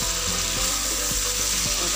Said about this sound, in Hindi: ये मैंने ऐड कर दिया और इनको हम 2-3 मिनट भूनेंगे।